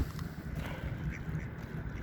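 Several ducks quack in a noisy jumble at moderate distance, over a busy outdoor background.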